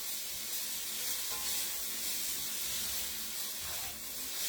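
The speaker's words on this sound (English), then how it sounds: "she's just searing that meat before she puts it all together" Beef tips searing in a pan for beef tips and rice, giving a steady broadband sizzle that stays level and close throughout, with no talking.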